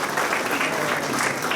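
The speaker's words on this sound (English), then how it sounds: "Can we have a good round of applause?" Many hands clap at once in a conference hall at Apollo Hospitals' COMMUNICON 2021, a brief, full and even burst of audience applause heard close.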